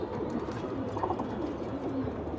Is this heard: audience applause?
no